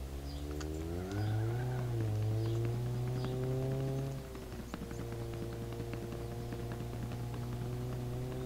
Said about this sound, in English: And now you have the flat tire sound.